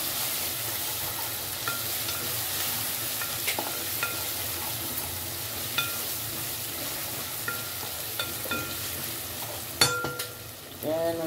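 Onions sautéing in oil in a pan with ginger-garlic paste for egg biryani: a faint, steady sizzle with occasional soft stirs, ending in a few bright utensil clinks.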